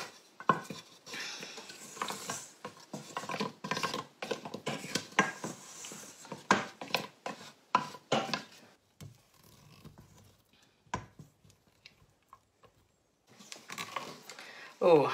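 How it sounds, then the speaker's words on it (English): Chocolate fudge mixture is stirred in a non-stick pan, with quick repeated scraping strokes and soft taps close by, then a quieter pause before the stirring resumes. "we're going to stir until it's melted and smooth"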